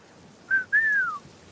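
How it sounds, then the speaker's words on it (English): A person whistles a two-part signal: a short high note, then a longer note that slides downward, clear and close against a quiet background. "And she would do that whistle"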